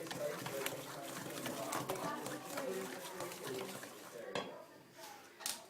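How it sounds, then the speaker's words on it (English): Whole egg and an extra yolk being beaten together in a bowl for chocolate chip cookie dough: steady clinking and tapping of a utensil against the bowl, close and fairly quiet, with a person talking over it. "Those need to be beaten in and mixed together well."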